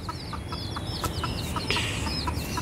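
Chickens cluck in a quick run of short, repeated calls, with one higher squawk near the middle. They sound fairly close, over a steady outdoor background hiss, and no one talks.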